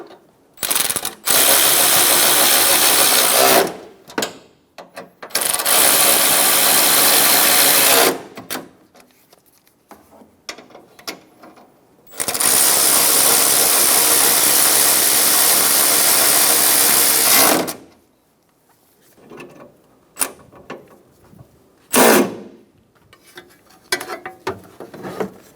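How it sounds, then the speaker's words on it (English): Ratchet wrench snugging three bolts on the support bracket of a 2014-2018 Chevrolet Silverado 1500, several long bursts of rapid clicking separated by pauses and softer handling noises, close and loud with no talk. "Snug the bolts down."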